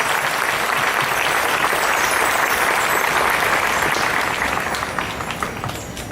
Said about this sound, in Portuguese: Uma salva de palmas bem forte para a palavra de Deus.